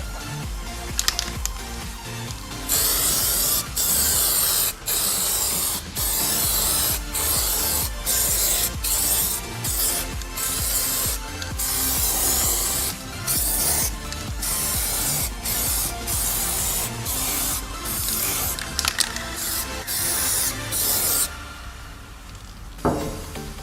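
Aerosol can of AC Pro-Tech rust protection coating sprayed onto the inside of air conditioner panels, a close, loud continuous hiss broken into repeated short bursts with brief pauses between strokes, no talking.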